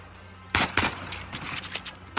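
Several sharp gunshots in the video game Uncharted 4, a loud burst followed by a few scattered cracks, close and punchy against a quiet background.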